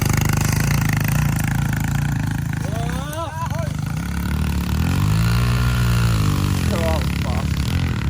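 An engine revved hard outdoors at a large 600 m² concrete landing site, rising and falling in pitch through a loud, steady wash of noise, with voices talking and calling over it.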